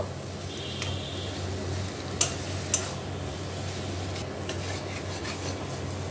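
A spoon steadily rubs and scrapes as garam masala is mixed into a shrimp kofta mixture in a pan, a continuous close scraping with two faint taps.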